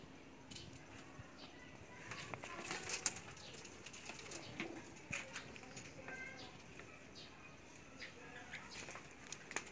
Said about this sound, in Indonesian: Nah, inilah ternak anakan angsa kecil-kecilan